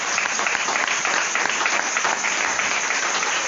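A church congregation claps together, a dense continuous wash of applause from many hands filling the room, loud and steady throughout with no gaps or talk.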